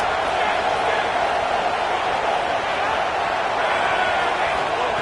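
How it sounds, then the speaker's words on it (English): A huge stadium crowd in the video game College Football 26 roars steadily and loudly throughout, a dense wall of cheering noise with no break. "Listen to this crowd just shaking the girders of this place"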